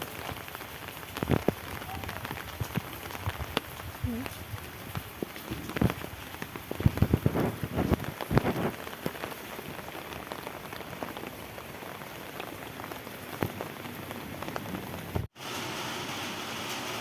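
Steady rain patters on surfaces, a continuous hiss with occasional louder drips and knocks, ending in a brief cut.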